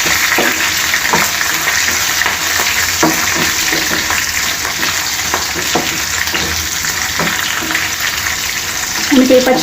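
Green chilli pieces and lentils fry in a pan with a steady, dense sizzle, broken by occasional stirring scrapes and a brief clatter at the end.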